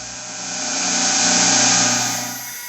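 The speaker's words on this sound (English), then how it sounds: "I finally get my 2x72 belt grinder up and running again" A 2x72 belt grinder runs steadily at close range, its broadband whine swelling and holding for a couple of seconds before easing, with no voices.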